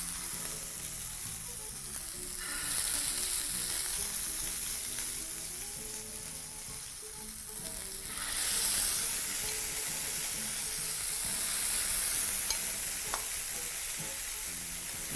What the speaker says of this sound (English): onto your smoking pan, proceed to move your pork fillets